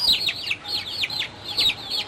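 A few chickens cluck and chirp in quick repeated bursts, close and fairly loud, with no talk over them.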